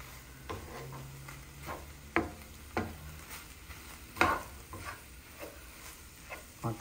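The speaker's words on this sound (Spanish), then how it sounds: "quiero que se salga bien el tomate y que se vaya cociendo bien el morroncito y la cebollita, que se vayan cocinando" Picadillo cooks in a pan with tomato, bell pepper and onion, a soft sizzle under repeated scraping stirs of a utensil at irregular intervals, close by and moderately quiet, with no talking.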